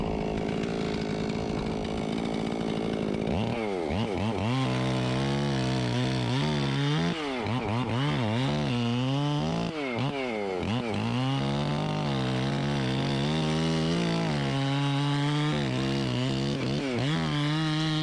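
A ported and polished 046 chainsaw fitted with a dual port muffler cuts through logs, loud and close, its engine repeatedly bogging down and revving back up in a steady, continuous roar.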